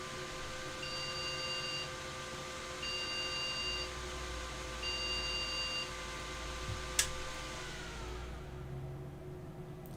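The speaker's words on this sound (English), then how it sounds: "Three beeps." A computer motherboard sounds a POST error code of three evenly spaced beeps, thin tones over a steady fan hum, followed by a sharp click as the noise drops away.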